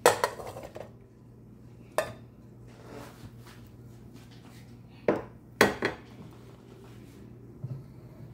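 A metal pot and utensils clatter and clink in a few sharp bursts, close by, as washed bananas go into a clean pot, over a low steady hum.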